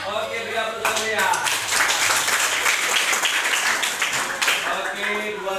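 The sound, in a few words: classroom applause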